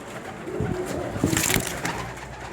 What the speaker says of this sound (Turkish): Biraz sinirli bir kuş.